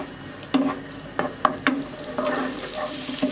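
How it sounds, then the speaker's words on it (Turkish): Peppers sautéing in a pan for pasta, giving a steady close sizzle with a few sharp clatters of stirring or added ingredients and no speech. "Şimdi biberleri bir süre kavuracağım"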